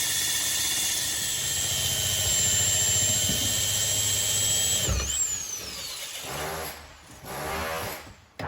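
An SDS drill fitted with a core bit and pilot bit whines steadily as it bores for several seconds, then winds down and restarts in short, rougher bursts as the bit bites.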